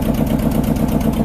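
Boat engine running on the Ichamati river near the India–Bangladesh border, a steady close, loud droning rumble with constant low vibration and no pauses, with no voices over it.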